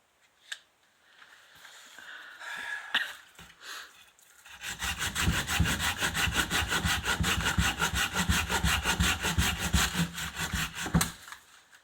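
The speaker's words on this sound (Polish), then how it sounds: "Daj pile szansę na to, żeby piłowała" Hand saw cutting through the trunk of a Christmas tree, starting with a few scattered scrapes and knocks, then settling into a steady, loud, rapid back-and-forth sawing rhythm for several seconds before stopping abruptly.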